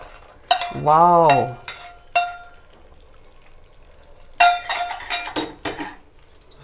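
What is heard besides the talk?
frying cashews, coconut and raisins in ghee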